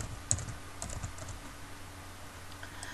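Someone types a blog title on a computer keyboard, producing a soft run of light, irregular key taps close by over a faint steady background hum, with no talking.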